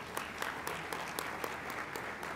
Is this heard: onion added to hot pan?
no